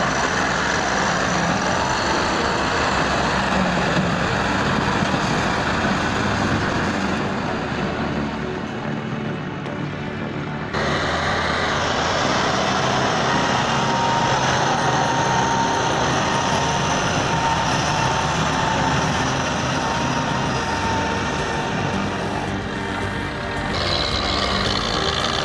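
A heavy off-road truck engine, its body caked in red soil, roars steadily and loudly throughout. The tone shifts briefly midway as the engine load changes, with no voices.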